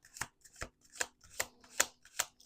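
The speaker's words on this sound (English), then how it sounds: "Let's do 2 more shuffles." Oracle cards are shuffled in crisp, evenly spaced riffling bursts, about six snaps in quick rhythm, close and clear with no talk.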